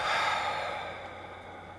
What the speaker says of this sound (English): Take a deep breath in. Let it go.